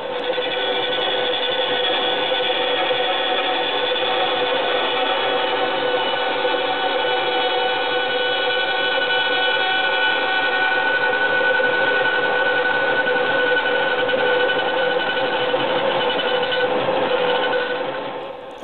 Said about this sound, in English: Is your bandsaw ready? Great, then let's go.